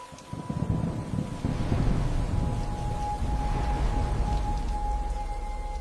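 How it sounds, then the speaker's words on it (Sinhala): Heavy rain pours down in a thunderstorm as deep thunder rumbles through, a loud, continuous downpour with wind and no voices. "මේක නිකන් වැස්සක් නෙවෙයි දිත්වා කියලා මහා කුණාටුවක්"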